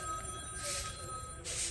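A mobile phone rings with an incoming call, a faint, steady electronic ring lasting under two seconds with no talking over it.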